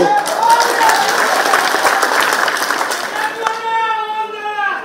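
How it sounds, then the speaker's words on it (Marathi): A crowd at a political rally breaks into dense, loud applause for about three seconds. The clapping fades as a voice begins speaking near the end. "मग का टाळी वाजवत आहे?"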